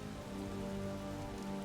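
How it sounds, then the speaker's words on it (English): Steady rain falling in the Lucius 3 video game, a dense continuous patter heard alone with a low sustained hum underneath. "Starting to rain."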